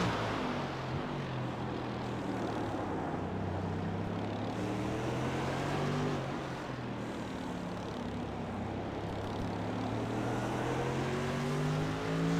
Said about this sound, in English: I just want to hear the engine roar.